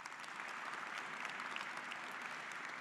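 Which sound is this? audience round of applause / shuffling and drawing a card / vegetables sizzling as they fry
audience round of applause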